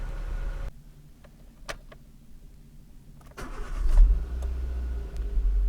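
A 2009 Nissan Micra K12 with an overheating fault idles quietly, with a few faint clicks and knocks, then the engine note rises and rumbles louder near the end, close to the listener with no talking.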